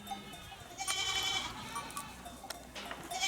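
Goats on a farm near Geyikbayırı, Antalya, bleat faintly in the distance, several thin overlapping calls over steady outdoor background noise.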